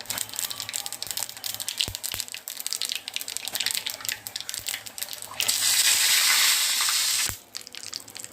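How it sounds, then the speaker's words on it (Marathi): Steady crackling sizzle of mustard seeds spluttering in hot oil for tempering, swelling into a loud hissing burst near the end before cutting off abruptly. "छान अशी मोहरी तडतडली पाहिजे"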